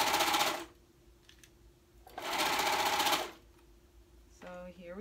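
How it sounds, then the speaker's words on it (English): A domestic sewing machine stitching the side seams of a kids raglan hoodie runs in two steady whirring bursts, fairly close, with quiet pauses between and a voice speaking briefly at the end. "So here we are, sewing the sides together."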